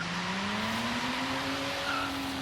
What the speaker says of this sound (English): Right off of the bat, spinning them tires.